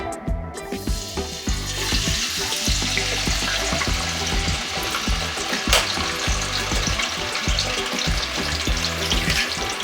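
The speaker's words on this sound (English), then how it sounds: "Now I'm gonna add the potato into the oil" Potato fries frying in hot vegetable oil in a basket, a loud, steady crackling sizzle with dense bubbling that runs unbroken throughout, close up, with no voices.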